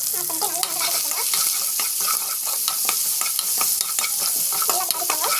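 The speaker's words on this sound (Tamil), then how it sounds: "கல்லுப்பு ஆட் பண்ணிட்டு நல்லா வந்து வதக்கிக்கோங்க." Chopped onions and curry leaves sauté in hot oil, sizzling steadily while a spoon scrapes and stirs the pan in repeated clattering strokes, close and alone without talk.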